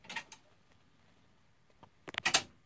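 Embroidery hoop being fitted onto a Baby Lock Valiant embroidery machine: one soft click at the start, a quiet pause, then a cluster of sharp, close plastic clicks and snaps near the end.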